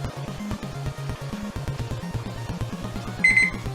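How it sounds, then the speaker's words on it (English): Kitchen timer going off while beans cook, a low repeating electronic beeping pattern with a steady rhythm, fairly loud, and a brief higher tone near the end. "the timer's getting ready to go off any second"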